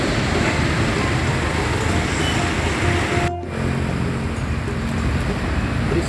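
An RCB Trans tour bus passes on the Pasar Rebo toll road with a loud, continuous roar of engine and tyres. The roar dips briefly mid-pass, then heavy traffic noise fills the rest of the clip.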